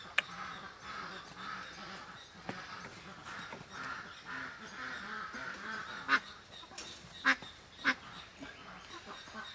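Pekin ducks and ducklings at a nest at dusk, soft intermittent quacks and peeps scattered over a low outdoor hum, with a few louder calls near the end.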